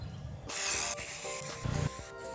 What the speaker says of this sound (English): next we're gonna spray the reflective coat